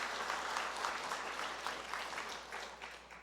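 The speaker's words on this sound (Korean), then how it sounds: "하나님께 영광의 박수를 올려드리겠습니다" A Korean church congregation claps after the choir sings a traditional-style hymn at a Sunday Thanksgiving service, a soft, somewhat distant round of applause that gradually tapers over a few seconds.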